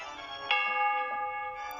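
A single clear bell strike in a video game, Dentures and Demons, rings out and hums with a sustained metallic tone that slowly fades, quiet and alone.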